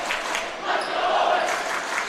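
Loud crowd applause and cheering fills a high school gymnasium at a boys' basketball game against Mansfield, a steady broadband roar that swells in the middle and holds throughout.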